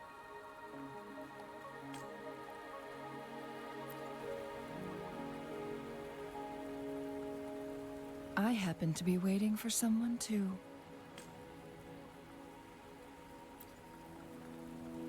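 Steady rain falls in the Wuthering Waves game world, a soft continuous patter running throughout beneath background music, while a character speaks briefly in the middle.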